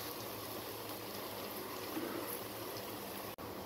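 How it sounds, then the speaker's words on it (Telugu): Onions frying in a pan with turmeric and salt give off a soft, steady sizzle that runs evenly throughout at low volume. "ఆనియన్స్ ఇలా ఫ్రై అవుతుండగా"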